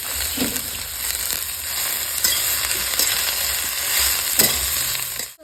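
Punka shaak greens tossed into a hot frying pan sizzle steadily, with occasional scrapes and clinks of stirring throughout, close and fairly loud, no voices.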